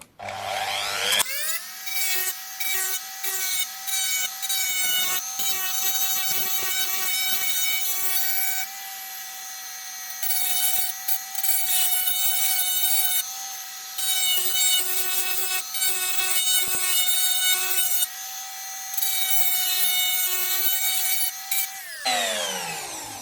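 A rotary engraver grinds a knife blade to sharpen it, its high motor whine running steadily while intermittent scraping and rasping contact rises and falls in bursts, then cutting off at the end.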